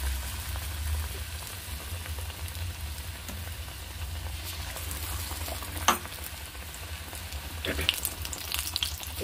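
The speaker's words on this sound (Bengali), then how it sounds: "আর তেল গরম হয়ে গেছে, এর মধ্যে আমি ছেড়ে দিচ্ছি।" Gram-flour-battered fritters fry in hot oil with a continuous close sizzle and crackle over a low hum, and a few sharp spatters and clinks of a utensil stand out.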